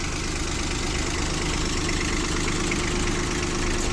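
A small diesel engine of a Kubota Aste A155 four-wheel-drive mini tractor idles steadily up close, a low rumbling knock with constant vibration and no other sounds.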